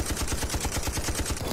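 Rapid machine-gun fire from a Jeep gunner in the video game Ravenfield, a dense, steady burst of rattling shots with no pauses, loud and close.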